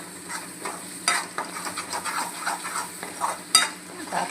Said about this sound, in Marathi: आता आपला मसाला शिजतोय, तेल सुटेपर्यंत आपण 5 मिनिटाला शिजून द्यायचं